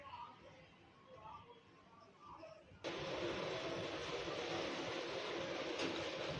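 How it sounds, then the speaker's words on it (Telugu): Mixer grinder loudly grinding roasted sesame seeds, dry chillies, coriander and salt into a powder for gongura pickle, a steady whirring roar that starts abruptly midway after quieter kitchen sounds and runs continuously to the end. "మూత పెట్టి మిక్సీ పెట్టుకోవాలి."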